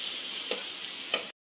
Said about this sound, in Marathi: आता आपले कांदे छान फ्राय झाले